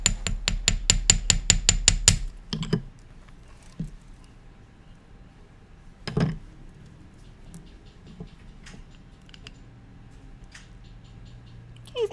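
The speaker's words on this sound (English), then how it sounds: "when you're hammering, you just want to turn your piece on the block" A metal beading piece hammered against a block, with about ten sharp, evenly spaced close strikes in a quick run, then a few scattered lighter taps and handling clatter.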